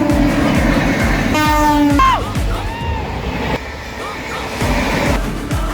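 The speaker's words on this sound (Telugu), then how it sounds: "మెల్లగా స్కిప్ కొట్టిన ట్రైన్ ఒక్కసారిగా పిచ్చెక్కినట్టు భూమ సెకటాల పరిగెడితే ఎట్లుంటుందో" A train races through Ghatkesar station. A loud two-tone horn blast sounds near the start, then the heavy rumble and rhythmic clatter of passing wagons continue, loud and close.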